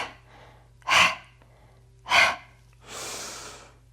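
Three forceful exhales during a Pilates mat workout, spaced about a second apart, the last one longer and softer, close to the mic with no talking.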